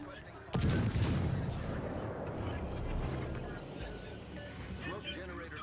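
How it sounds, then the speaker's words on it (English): Warship guns fire in a naval battle video game, a sudden heavy boom followed by a long rumbling roar that slowly fades, with a voice talking over it. "All stations requesting fire."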